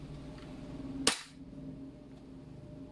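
An Armorer Works VX7310 Polymer80 airsoft gas blowback pistol with MOS fires a single sharp, loud, close shot that snaps and cuts off quickly, leaving faint room tone.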